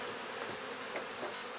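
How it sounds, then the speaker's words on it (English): Honey bees swarm around a queen-rearing cell starter box in a Nicot system setup, making a dense, continuous buzzing hum at close range with no voices. "let the bees settle down"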